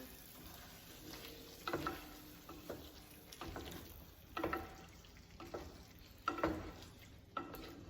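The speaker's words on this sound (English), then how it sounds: "All right, so I'm just gonna stir it again." Mapo tofu is stirred in a pan: soft sizzling with intermittent scraping and clinking strokes of a utensil, quiet and close.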